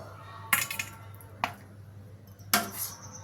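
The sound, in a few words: serving chicken curry onto a plate, dishes clinking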